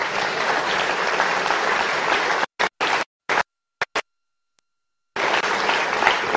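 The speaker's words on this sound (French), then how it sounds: "Vous pouvez les applaudir." A political rally audience applauds in a hall, dense steady clapping that cuts out abruptly in the middle with a few choppy fragments, then resumes at full strength.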